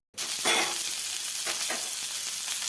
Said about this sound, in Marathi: खोबरं भाजून घेते मी आता खोबरं भाजते